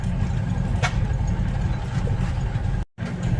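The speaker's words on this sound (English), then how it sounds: "Got some flywheels running." Antique flywheel engines idle at a farm show, their low steady thumping continuous and fairly loud, with a brief dropout near the end.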